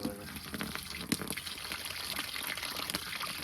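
Sediment-laden water drains and splashes from a heavily crudded electric water heater being flushed, a steady pouring gush with brief clunks, close by.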